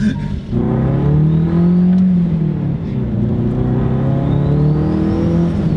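A turbocharged Acura RSX Type S engine revs loudly and up close, a sustained droning roar that rises and holds with a slight dip near the start and faint turbo whine on top, with no talking.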